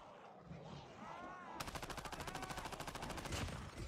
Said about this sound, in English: So what is this, light machine gun?